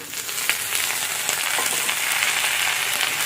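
Flat beans with onion, garlic, slit green chillies and chopped tomato sizzle in a hot pan, a steady close frying hiss with occasional crackles and stirring.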